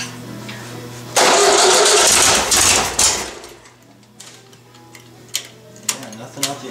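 A cold Volkswagen 1600 dual-port engine cranks and fires, catching with a sudden loud burst, then settling into an uneven idle with ticking valvetrain and sharp pops, heard close up.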